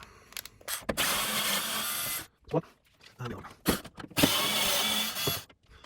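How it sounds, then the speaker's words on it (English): Two T20 Torx screws being undone on a Beko WTB740E1W washing machine during a water pump replacement, with long whirring bursts of a powered screwdriver separated by short clicks and handling knocks, close and loud. "they're 2 T20 screws, so we're going to remove them"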